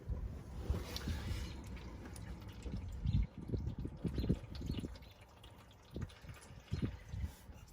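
Water leaking and dripping from a Saturn SC2 car body while water is poured on it, with irregular splashes and trickles that come and go in soft bursts, fairly close and faint.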